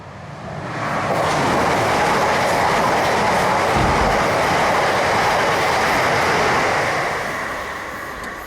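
Northbound express train roaring past on the railway at Tallington, Lincolnshire, seen from a footbridge, a loud sustained rush with steady clickety-clack of wheels over rails that fades in and out at either end.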